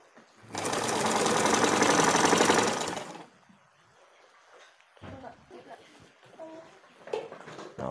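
A black Singer Butterfly sewing machine stitches a bedcover, its loud, steady mechanical whirr running for about two and a half seconds before stopping, followed by quieter knocks, handling noises and a faint voice.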